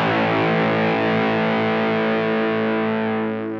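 An electric guitar on its neck pickup, with volume and tone full up, runs through a Dr. No Effects TVL Octavia fuzz pedal with both knobs near noon. A single thick, buzzing fuzz chord sustains loudly and fades at the end.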